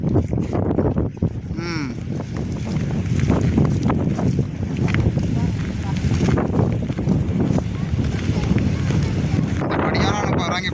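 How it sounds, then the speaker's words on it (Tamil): Strong wind buffets the microphone in a steady roar, with splashing water and choppy waves on a village pond throughout, and a voice faintly heard under the noise. "சரியான காற்றும் அலையடிக்குது"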